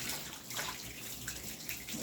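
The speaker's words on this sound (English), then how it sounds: "we can turn the water back up now so we can get her rinsed off nice." Water runs steadily from a tap into a bath while a puppy is rinsed, a soft continuous splashing rush with small surges.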